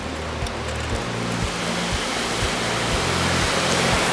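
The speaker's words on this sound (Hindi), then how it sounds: "ये एक नदी है, नदी बह रही है" A river rushes beside a narrow mountain road, making a loud, steady broadband roar. Regular low thumps recur about every half second underneath it.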